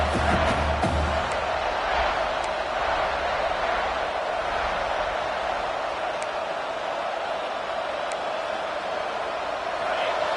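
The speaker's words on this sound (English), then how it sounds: "listen to this crowd noise. This stadium is vibrating." A huge college football stadium crowd at USC vs Nebraska roars continuously, a dense wall of cheering and noise, loud and sustained throughout.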